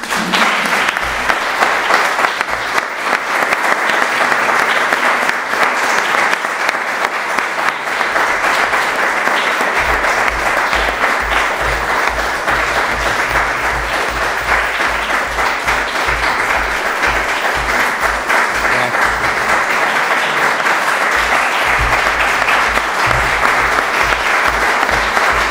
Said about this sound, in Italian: Un applauso che esprime benissimo l'affetto che tutti abbiamo